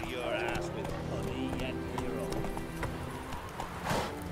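Horse hooves galloping in The Witcher 3, a steady clip-clop rhythm running under game music and effects, with a rider's voice calling out over it.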